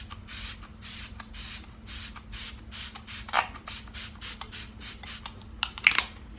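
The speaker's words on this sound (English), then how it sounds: "I'm just going to be spraying this lightly all over my face." Smashbox Photo Finish primer misted onto a face as a steady series of soft, breathy spray bursts, close to the microphone over a low constant hum, with a couple of faint clicks.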